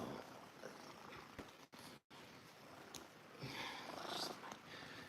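A soft, close purr rumbles quietly, briefly cut by a couple of short dropouts and a rustling scuffle near the end.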